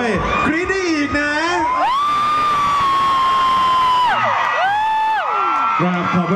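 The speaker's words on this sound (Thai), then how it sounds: "เสียงกรี๊ดดังกว่าแบรนด์แอมบาสเดอร์ของเราหรือเปล่าครับ" A crowd shrieks and cheers loudly and continuously, with high rising screams swelling and dropping over a few seconds.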